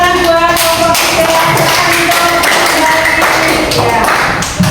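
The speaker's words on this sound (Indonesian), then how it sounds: "Silakan buat tepuk tangan buat kelompok 3." Schoolchildren in a classroom clap their hands for a student group that has just presented. Close, busy clapping begins right after a brief voice and keeps going, loud and uneven.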